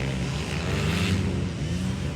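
Dirt bikes in a local enduro final heat drone at a distance, a steady buzzing engine wash that rises and falls slightly without clear talking.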